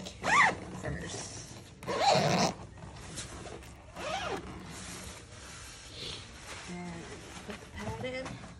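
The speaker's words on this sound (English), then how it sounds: "So pull the zipper to secure." A zipper rasps shut in short pulls on a 4moms mamaRoo sleep bassinet during assembly, a few brisk scratchy strokes close by, with quiet rustling and a person speaking between them.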